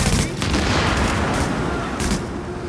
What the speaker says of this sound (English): Let's chuck another grenade that way.